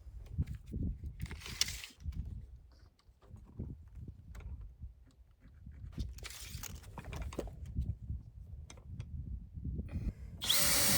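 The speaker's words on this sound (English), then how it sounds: "Lay it flat, I'll drill the hole, and then we'll build a wall." A power drill bores a hole through wood during shear wall framing, with a few short high whines standing out over a steady low mechanical rumble and handling noise.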